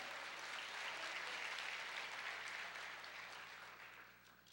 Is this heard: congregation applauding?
yes